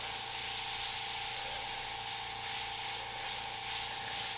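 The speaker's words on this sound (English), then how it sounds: "I'm gonna start doing a mix of airbrush lines." An airbrush sprays paint onto a copper sheet in a steady, close hiss that holds without pause and swells slightly in gentle waves.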